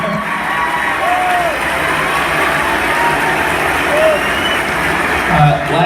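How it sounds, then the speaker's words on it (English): A large crowd at a NASCAR championship party applauding and cheering, a loud continuous wash of clapping with scattered shouts and a few whoops rising over it. "I would give my wife a round of applause"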